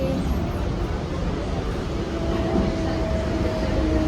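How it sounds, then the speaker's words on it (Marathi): An arriving metro train fills the scene with a continuous loud rumble and a steady mechanical drone, with a faint tonal whine running through it. "तर गाईज मेट्रो आली इकडून"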